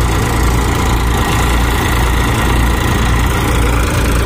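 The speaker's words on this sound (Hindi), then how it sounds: "तो वही ट्रैक्टर है" A tractor engine runs steadily at a peanut harvest in the field, a loud, close, continuous rumbling drone with constant vibration and no talking.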